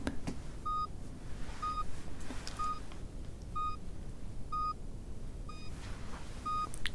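Seven short electronic hearing-test beeps at a steady pace about one per second, clear but not loud, over a faint background rumble.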